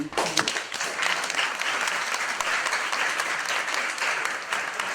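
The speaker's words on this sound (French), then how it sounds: "je voudrais que vous applaudissiez le DG" Sustained applause from a school audience at a collège d'enseignement général in Allada, Benin, during a school-kit donation ceremony, steady dense clapping for about five seconds with a few voices mixed in.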